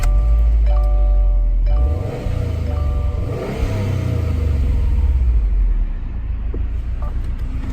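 A 2017 Subaru WRX STI being rebuilt after front-end damage cranks and fires up, then its engine rumbles loudly and close, rising and falling through several revs.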